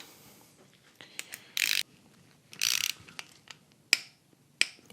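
A ratchet turns an LS V8 engine over by hand during a camshaft swap in a home garage, giving close, crisp clicks and a few longer ratcheting bursts in a quiet space.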